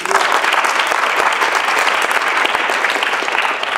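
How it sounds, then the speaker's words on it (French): Audience applause for a juror at a French student debate contest, a dense, steady wash of clapping that holds at full strength for nearly four seconds with no voices over it. "Je vous demande d'applaudir Anastasia Melatrinos."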